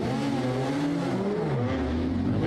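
A Radical SR3 race car, a 600 kg prototype, roars on circuit at Zolder during Supercar Challenge qualifying, its engine note rising and falling loudly as it shifts gears and passes close by.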